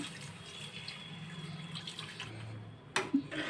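A quarter litre of milk is poured into a pan while a biscuit payasam is cooked. Low, steady kitchen noise gives way near the end to a short splashing pour of liquid.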